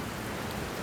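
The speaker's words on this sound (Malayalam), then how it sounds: "ഇത് സാധാരണ മഴ മാത്രമാണ്," Rain falls as a sound effect in a narrated story of the great flood, a steady broadband hiss with a low rumble beneath it and no voice over it.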